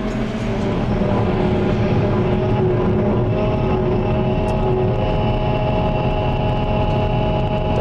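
Loud, steady growl of a silage machine's 350 hp Cummins engine, a dense low rumble with a constant droning hum running unbroken throughout, close and alone.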